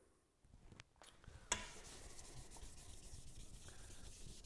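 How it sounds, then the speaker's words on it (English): Steady wet sanding with 800-grit sandpaper on a Cushman fender, a continuous close scratchy hiss following a few soft handling knocks at the start. "And you're just gonna keep sanding it"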